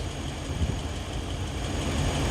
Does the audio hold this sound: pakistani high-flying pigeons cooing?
no